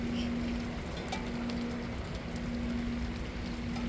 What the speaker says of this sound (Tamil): இப்போ மழை பெய்யுது பகலையில்